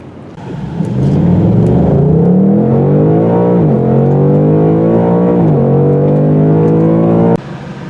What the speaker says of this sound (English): So let's do some 0 to 60 runs and see what happens.